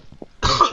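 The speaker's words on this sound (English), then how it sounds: "They're making me cough." A single sharp cough bursts out after a few faint breathy sounds, close and fairly loud, trailing off quickly.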